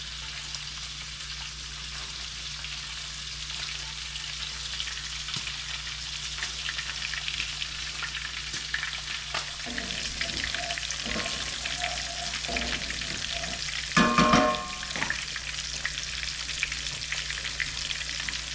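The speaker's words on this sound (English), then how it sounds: "To the oil, I'm gonna add, I thought that was more set up, a good amount of butter for flavor." Butter melting and frying in oil in a pan, a steady close crackling sizzle throughout with a brief clatter and spattering burst near the end.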